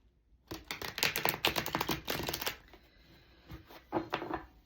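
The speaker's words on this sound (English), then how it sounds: "Okay, one more shuffle." A deck of playing cards is shuffled close by: a rapid rattling flurry of flicking cards, a brief pause, then a shorter second burst.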